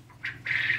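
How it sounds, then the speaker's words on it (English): A yard rooster on a homestead crows, answered by other roosters: two short nasal calls about a quarter second apart, the second longer and louder, close by with no talk. "our yard rooster likes to make his appearance, and then the other roosters like to join in on the fun, as you could hear"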